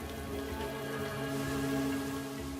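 Steady rain falls across the rugged, hard rocky ground of the Al Hajar Mountains, a continuous, fairly close patter with no talking over it.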